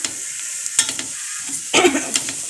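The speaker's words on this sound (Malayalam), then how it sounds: "നമ്മളിനി നന്നായിട്ട് ഇളക്കി യോജിപ്പിച്ച് വെക്കണം" A spoon stirring and mixing thoran curry with curry leaves in a pan, with a few scraping, rustling strokes over a low sizzle, close and unaccompanied by speech.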